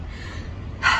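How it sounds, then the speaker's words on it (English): Heavy, gasping breaths from a person mid-HIIT workout between slam ball and skater exercises, a sharp loud inhale near the end after quieter breathing, close to the mic with no talk. "You can tell by the way I'm breathing."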